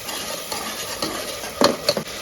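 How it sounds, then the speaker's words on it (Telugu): A spoon stirs pulao with tomato and yogurt in a pan, making steady scraping and soft mixing, then a couple of sharper metallic clinks against the pan near the end. "బాగా కలుపుకోవాలా లేదంటే గడ్డలు గడ్డలు అవుతుందంట"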